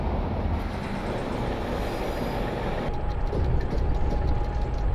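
Rattling locomotive in Train Simulator Romania, a steady dense rumble and clatter throughout, loud and continuous with a slight shift partway, no talk.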